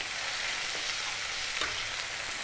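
Garlic ginger paste, a half-and-half mix of garlic and ginger, sizzles and fries steadily in a hot pan for a vegan vegetable curry, a loud continuous crackle with a light stir, no voices.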